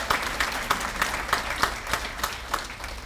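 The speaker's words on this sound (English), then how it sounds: "Round of applause," An audience at a corporate awards celebration applauds its CEO, a lively crowd of hands with a strong, roughly even clapping beat pulsing through the whole stretch.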